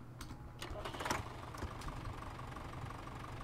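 A tractor engine idling in the video game Farming Simulator 17, a steady low mechanical hum with a few clicks and knocks, moderately quiet with faint speech-like sounds mixed in.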